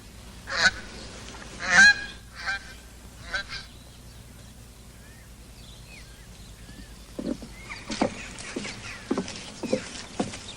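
Ducks quacking, loud honking bursts near at hand, then a quieter spell and a later flurry of scattered calls, with no talk.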